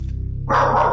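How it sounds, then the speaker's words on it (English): A dog barks at a wall and window indoors in a loud, close burst that starts halfway through, over a steady low hum. "the dog's barking at the wall, at the window"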